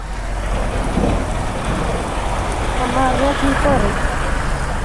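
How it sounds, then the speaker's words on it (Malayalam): Steady, dense rain hiss fills the whole stretch, with a voice speaking faintly underneath toward the end. "നല്ല മഴ"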